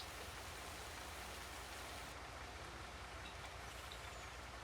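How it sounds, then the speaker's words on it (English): Steady rain hisses without a break throughout, a dense, even wash of falling water in the video game Farming Simulator 22, heard alone without voices. "the forecast said it will stop raining later on, so I guess we will manage to harvest our field."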